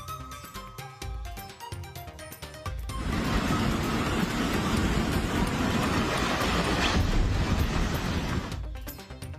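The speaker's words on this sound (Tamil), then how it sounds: "ரயில் சென்று கொண்டிருந்த போதே சுவர் இடிந்து விழுந்த காட்சிகள் வெளியாகி அதிர்ச்சி." Train crossing a railway bridge in Himachal Pradesh as heavy rain brings down the bridge's retaining wall: a steady loud rumble and roar swells after a few seconds, holds, then eases, with no talk.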